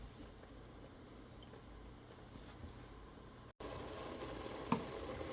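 Mac and cheese with taco meat cooks in a pan, giving a faint, steady sizzle with a slight bump partway through and a brief stirring scrape near the end, with no talking.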